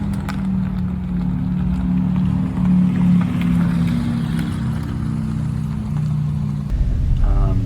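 An Audi A3 40 TFSI e plug-in hybrid driving past outdoors, a steady low hum with road rumble held throughout, rising slightly near the end with a brief shift in tone.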